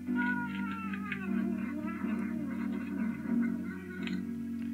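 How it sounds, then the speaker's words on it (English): A cartoon cat meows repeatedly in the April Fools 2011 game Watch Paint Dry, the cries sounding steadily over constant game music with no talking. "That is one hungry kitty."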